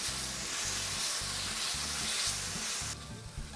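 Garlic, shallots and mushrooms, with a little fresh Italian thyme, sizzle steadily in a hot pan while being stirred, a close, continuous frying hiss with rhythmic scraping strokes of the spoon and no voices.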